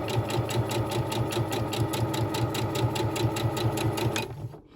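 A sewing machine runs steadily at a brisk, even stitching pace, topstitching along a folded edge of a small fabric glasses-cloth pouch, its rapid rhythmic clatter continuing alone before stopping abruptly near the end.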